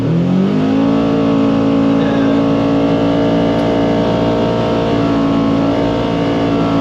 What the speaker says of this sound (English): Let's go ahead and go for a drive and talk about more about how it performs on the dirt road.